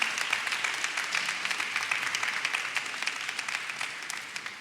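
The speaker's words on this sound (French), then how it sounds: "On applaudit membres accueil pour moi s'il vous plaît" A church congregation at a Sunday Mass claps for the welcome team, a dense sustained round of hand claps from a large crowd that slowly thins out toward the end.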